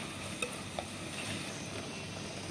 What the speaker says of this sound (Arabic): ننزل عليها بالسبيط والجمبري، نغير لونهم بس كده